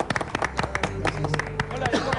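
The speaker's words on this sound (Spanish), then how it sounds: "Fuertes los aplausos para Eric." A studio audience on a Spanish-language TV debate show claps for an arriving guest, with sharp, scattered hand claps close by and people talking over them.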